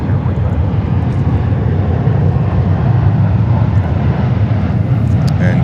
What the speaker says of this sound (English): Here, 350 1000 taken off Cathay Pacific to Hong Kong